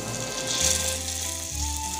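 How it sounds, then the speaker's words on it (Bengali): Chicken sizzles as it fries in hot spiced oil for a Bengali-style chicken curry, giving a steady close crackle with low tonal hums underneath, and nobody speaks. "এবার আমি চিকেনটা দিয়ে দিচ্ছি"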